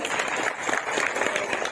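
Crowd at an indoor training program in Botad breaks into a short, dense round of clapping that fills the room evenly throughout.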